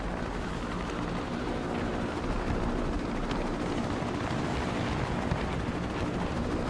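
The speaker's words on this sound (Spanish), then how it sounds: "a ver si se acerca otro helicóptero y puedo irme de uno a otro" A helicopter in the video game Batman Arkham City approaches with a steady, dense rotor roar that holds throughout at moderate volume, with no voices.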